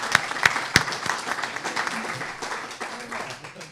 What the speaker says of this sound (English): let's give a round of applause for John for being here tonight